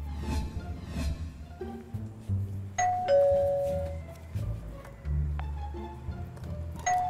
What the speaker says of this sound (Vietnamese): bấm chuông gì mà bấm dữ vậy?